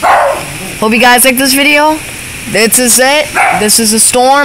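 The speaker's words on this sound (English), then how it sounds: "I apologize about my dog" A dog barks and yips repeatedly in short bursts during a heavy tropical rainstorm, loud and close, with someone talking over and between the barks.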